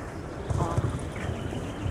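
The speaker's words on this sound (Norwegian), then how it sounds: "på en fantastisk hest, Palobé Dalong, en tiårig valak." Hooves of a ten-year-old gelding thud and clop at a show jumping event at the La Baule Nations Cup in 2013. The footfalls are soft and rhythmic under a commentator talking.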